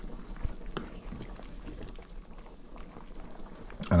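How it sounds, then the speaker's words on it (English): A Caribbean soup pot with yuca and dumplings simmers on the stove, soft continuous bubbling and faint popping, close and quiet, with a brief louder knock at the end. "The yuca seems to be boiling."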